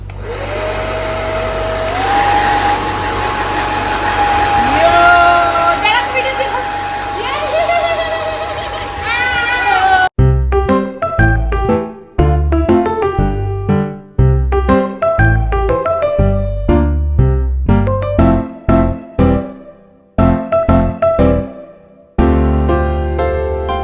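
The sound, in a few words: hair dryer drying a child's hair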